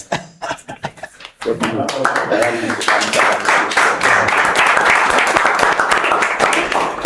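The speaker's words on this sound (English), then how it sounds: "A standing ovation will do, eh?" A standing ovation at a formal gathering: after a few scattered claps, dense sustained applause swells and continues strongly, with laughter and voices mixed in.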